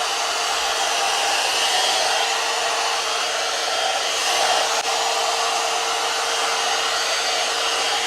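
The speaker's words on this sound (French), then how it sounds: "C'est ma brosse sèche-cheveux." A hair dryer brush blows hot air over a wig, giving a steady, loud, continuous whooshing hum that holds unchanged throughout with no talking.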